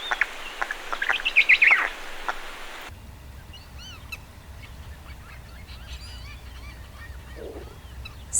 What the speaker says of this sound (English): the father goose raised his neck and hissed angrily to chase away the enemies and protect the newly hatched chicks.